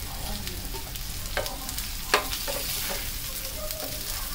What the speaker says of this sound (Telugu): ఇప్పుడు మనం బాయిల్ చేసి పెట్టుకున్న కాకరకాయలని యాడ్ చేద్దాం